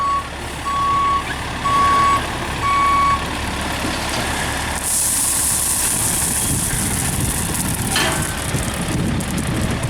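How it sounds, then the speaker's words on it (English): A big six-axle dump truck backs up with a few loud, steady reversing beeps over a rumbling diesel engine, followed by a burst of hissing air. The engine keeps droning close by. "Boy, that is a big dump truck"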